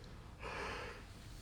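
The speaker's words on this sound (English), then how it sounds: "excuse me, I had to yawn" A person gives a single soft, breathy yawn of about half a second, close and quiet, with no talking during it.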